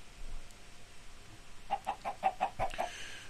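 A chicken in the Minecraft video game clucks in a quick series of about seven short, evenly spaced clucks over faint background noise.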